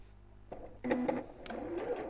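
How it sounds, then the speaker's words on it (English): A sewing machine top stitches around an awl in brief, close bursts, with light clicks and handling noise. The sound is fairly quiet and lasts only a couple of seconds. "I'm literally just going to top stitch around the awl"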